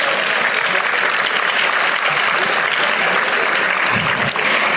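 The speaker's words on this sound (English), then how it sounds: "Can we have a huge round of applause for all the winners," A large audience at a school valedictory ceremony claps loudly and continuously for the winners, a dense, sustained wash of applause that fills the whole stretch without a break.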